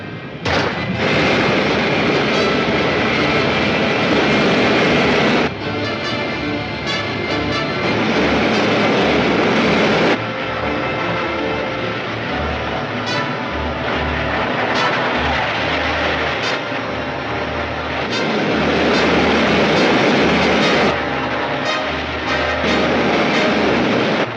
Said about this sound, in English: Fire main rocket.